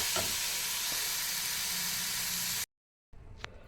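Thoothuvalai leaves and onion sautéing in a pan, a dense steady sizzle and hiss with faint stirring, cut off by a brief silence before a quieter stretch of frying resumes.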